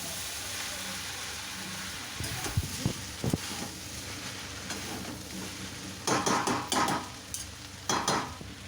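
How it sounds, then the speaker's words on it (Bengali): Chow mein tossed with sauces and vinegar in a pan, a steady frying hiss beneath bursts of stirring and scraping, with louder clattering strokes near the end; no talk. "সব কিছু দিয়ে এবার আমি খুব ভালো করে মিক্স করবো চাউমিনটা।"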